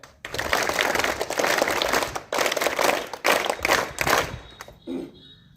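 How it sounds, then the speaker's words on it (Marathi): A crowd of villagers at a Maharashtra Day school flag-hoisting ceremony in Ambale claps in loud, sustained applause for several seconds, tapering off into a few scattered claps. "प्रथम आपण त्यांचा टाळ्या वाजून स्वागत करूया"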